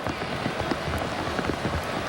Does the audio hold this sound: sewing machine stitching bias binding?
no